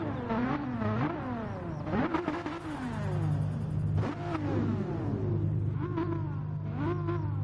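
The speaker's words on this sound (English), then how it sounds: "And you can also hear me rev my engine." A car engine in a racing event revving repeatedly, its pitch rising and falling in several swooping sweeps over a steady low drone, close and continuous with no talk.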